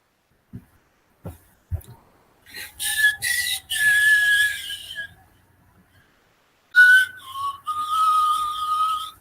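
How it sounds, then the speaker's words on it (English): A person whistles a short melody in two phrases, clear and close, with a few soft clicks before it starts. "I'm just whistling it"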